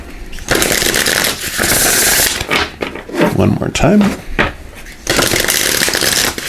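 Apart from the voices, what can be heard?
shuffling a deck of oracle cards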